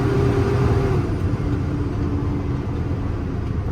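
A 2018 International service truck with a 6.7 Cummins diesel and Allison automatic drives along with a steady, close, low diesel rumble and no voices.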